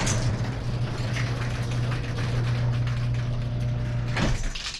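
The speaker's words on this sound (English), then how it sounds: "let me shut this door before we start" A door slides shut with a loud thud near the end of a steady humming drone in a paint booth where a 2018 Harley-Davidson Sport Glide FLSB fairing is being painted.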